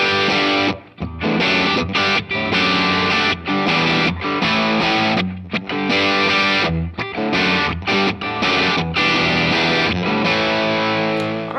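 An electric guitar with a humbucker pickup plays through a Brit Drive overdrive preset on a $230 multi-effects modeler, giving loud, heavily distorted chords and riffs with brief pauses between phrases.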